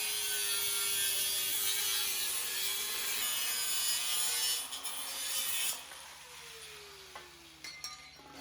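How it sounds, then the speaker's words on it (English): Steady close-up grinding or sawing of a metal exhaust pipe being notched during a custom exhaust fabrication, a continuous rasping, whirring cut with slowly shifting pitch that stops partway, leaving lighter scraping and handling noises. "I just have to mark it and notch it."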